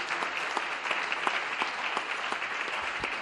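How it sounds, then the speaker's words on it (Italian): An award ceremony audience claps together for environmental innovation prize winners, a dense, even round of applause with individual hand claps popping through, steady and moderately loud throughout. "Triplo applauso e foto di rito."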